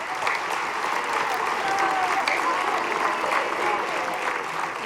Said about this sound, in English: I'd like to give a huge round of applause first to our student accompanists.